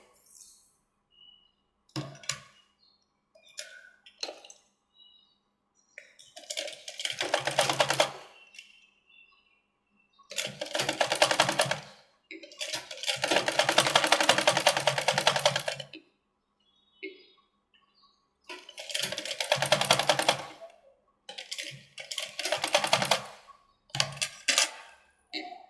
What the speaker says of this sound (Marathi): बाजूने पण साईडने शिलाई देऊन घेऊया